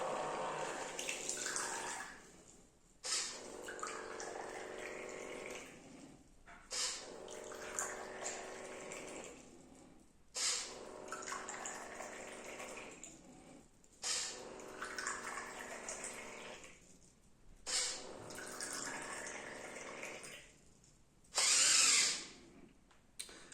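A pump-driven alcohol dispenser for six shot glasses whirs as it fills them, with about six motor-and-pour bursts separated by short pauses and a brief louder hiss near the end, moderately close.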